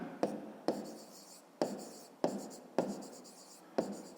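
A pen writes on paper in a 5th-grade maths lesson, making six distinct scratchy strokes at a steady pace, each starting sharply and then fading, up close with no talk.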